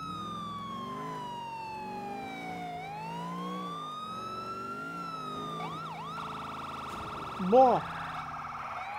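A police car siren in the video game GTA IV wails with rising and falling tones, then switches to a faster yelp. It plays at moderate level, and a voice briefly exclaims over it near the end.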